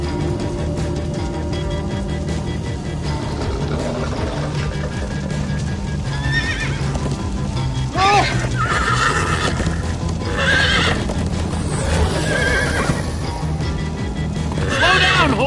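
Horse neighing and galloping in a PS4 video game, with repeated whinnies rising over a steady clip-clop of hooves against a busy, loud game background, some voices faintly present.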